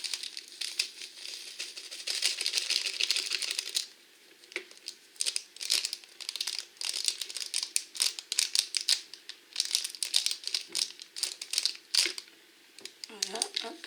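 Paper is snipped and crinkled with scissors at one corner in short, crisp bursts, separated by brief pauses, close and fairly quiet, with no talking over it.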